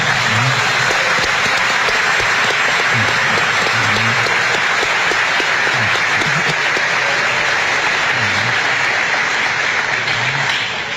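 A studio audience gives sustained applause, an even wash of many hands clapping that stays loud and constant for about eleven seconds, with only faint low thumps beneath it.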